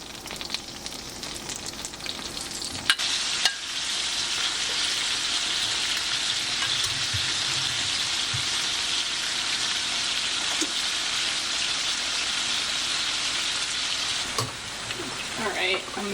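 Shrimp laid into butter in a hot pan, sending up a loud, continuous bright sizzle that holds steady for most of the stretch, with a few clicks and knocks of handling at the start and near the end, no talking.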